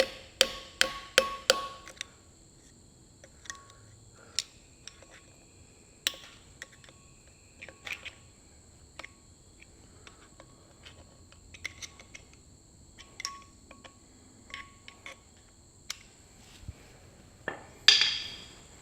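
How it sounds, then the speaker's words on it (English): A hammer bashes the shank of a cheap screwdriver while a Massey Ferguson 65 flywheel is fitted, giving a quick run of sharp metallic strikes, then scattered fainter taps and clicks in a quiet workshop, and a louder knock near the end. "I have a cheap set with a shank that I can bash."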